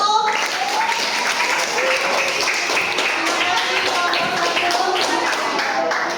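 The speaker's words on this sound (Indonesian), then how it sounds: "kasih tepuk tangan untuk kelompok 1" Students in a classroom clap for a group that has just presented, a loud, brisk burst of close hand-claps lasting around six seconds, with voices chattering through it.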